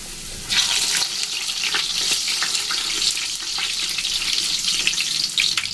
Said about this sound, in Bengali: যেহেতু একদম ডুবো তেলে ভাজছি আমরা